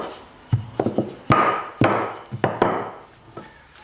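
Floured pita bread dough being rolled out on a wooden board, with a series of knocking thumps and soft rubbing strokes at an uneven pace, close and fairly quiet, with no talking.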